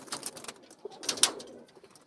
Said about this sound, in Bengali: এই যে এটা ওর জেনারেশনের কবুতর